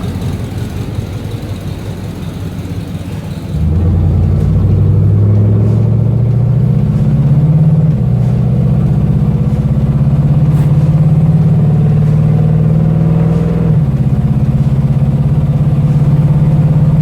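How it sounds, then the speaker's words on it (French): A 1971 Chevrolet Chevelle V8 idles with a deep, steady rumble, then revs up hard and holds a loud, throaty note for several seconds before dropping back, close and with no talking. "Le son des V8 qui chante à l'accélération là."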